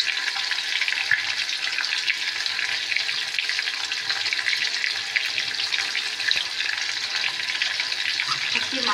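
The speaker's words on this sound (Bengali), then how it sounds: "দেখো তেল গরম হয়ে গেছে, মাছ একদম ভাজতে বসিয়ে দিয়েছি।" Fish frying in hot oil for macher jhal, a loud dense continuous crackling sizzle that holds steady throughout, close by and without talk.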